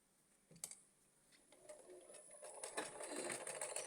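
A sewing machine stitches a zip onto a kurti top, starting faintly and then building into a quiet, continuous rapid clatter of needle strokes.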